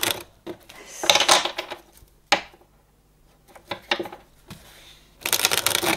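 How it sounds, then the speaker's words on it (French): Tarot cards are shuffled and drawn by hand, giving close, papery riffles and flicks in uneven bursts with quiet gaps between, ending in a longer shuffle. "Je vais retirer 3 cartes avec ce jeu-là"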